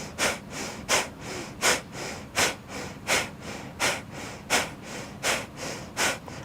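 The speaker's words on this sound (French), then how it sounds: "on va venir inspirer profondément et on expire." Rhythmic deep breathing during a breathwork exercise: nine or so forceful, evenly spaced breaths, each a loud, close rush of air, repeating steadily without talk.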